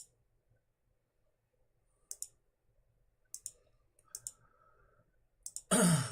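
A computer mouse clicks while working in the Euro Truck Simulator 2 map editor: sparse, crisp, close single and double clicks scattered over near silence, with a brief rustle at the end.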